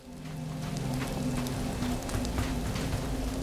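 Steady rain patters and hisses continuously in the survival game Soulmask, a dense even wash of drops with a low hum underneath and no voices.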